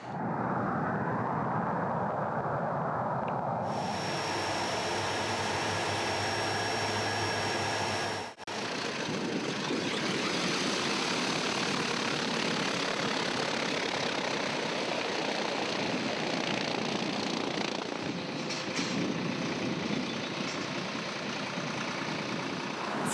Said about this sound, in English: So we take off at partial throttle, and then as soon as we go past VMC, which is 150 knots, something like that, he goes to full power